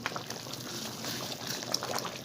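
Water sizzles and bubbles off in a karahi of white chicken over a high flame, a steady close hiss with small crackling pops throughout.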